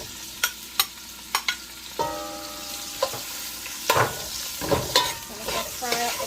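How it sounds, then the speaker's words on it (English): Bacon ends drop into hot oil in a pot over medium heat, giving a crackling fry with sharp pops and spatters that come in quick bursts over a steady sizzle, close and fairly loud. "Let that fry up a bit."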